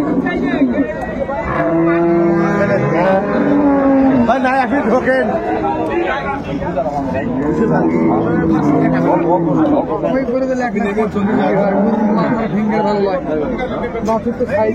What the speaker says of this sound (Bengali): গাভী বাচ্চা আমরা দেখছিলাম এখানে।